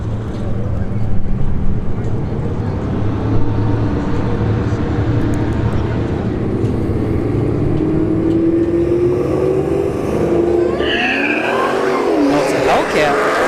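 Dodge Hellcat wide-body running a street-heat drag strip pass, a loud sustained engine roar climbing in pitch as it accelerates, with a commentator talking over it throughout.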